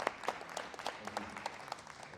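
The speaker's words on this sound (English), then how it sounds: "maybe a quick round of applause for Christoph" An audience gives a brief, scattered round of applause at a live talk event, the claps sounding sparse and somewhat distant.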